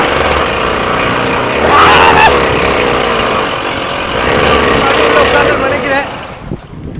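A mini jeep off-road vehicle's engine runs steadily after starting, loud and close with a droning, mower-like tone, while voices talk over it before the sound drops away near the end.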